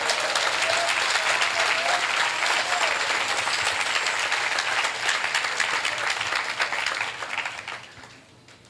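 Sustained loud applause and hand clapping from a church congregation at an Assemblies of God service in Caracas, Venezuela, filling the room steadily before tapering off near the end.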